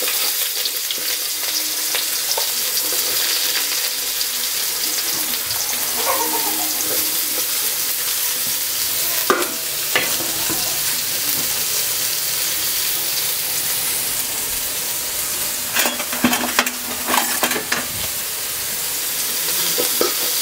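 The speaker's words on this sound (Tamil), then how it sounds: "வெங்காயம் நல்லா வதங்கணும்." Onions with fennel seeds sauté in oil in a pan, giving a steady, loud hiss of sizzling throughout with occasional scrapes of the stirring spoon.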